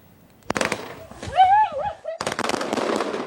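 Fireworks are set off by a group of young people in the Wuling parking lot on a mountain pass, with sharp crackling bursts coming in quick rapid-fire runs. Excited voices cheer and shout loudly between the volleys.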